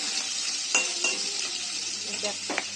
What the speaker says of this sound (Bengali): এভাবে আমি কাঁকড়াগুলোকে ভেজে নেব দাঁড়াগুলোকেও ভেজে নেবো